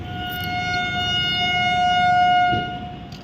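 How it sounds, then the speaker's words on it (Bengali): Steady, loud horn tone from a freight train seen approaching from a distance, sustained for several seconds over a low rumble of the moving train, with no talking. "এটা একটা মালগাড়ি"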